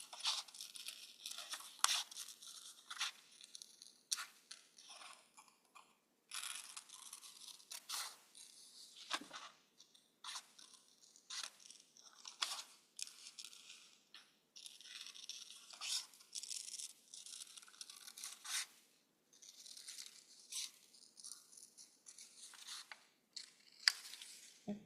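Scissors snip through a thin plastic 32oz container to cut out a bunny tail shape, a long run of quiet, close crisp clicks and crinkling plastic scrapes in irregular bursts, with no talk.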